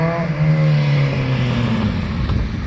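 A 1976 Kawasaki KZ900 four-cylinder four-stroke motorcycle revs through Carcraft mufflers with a deep, throaty tone that rises and then falls as it pulls away, loud and close, with no voices.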